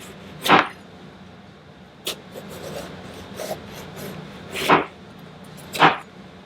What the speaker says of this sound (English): we're going to take and make nice thin slices, about 1/8 of an inch or so